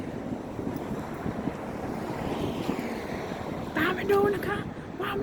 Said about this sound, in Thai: ลมแรงมาก ลมสุด ลมเลย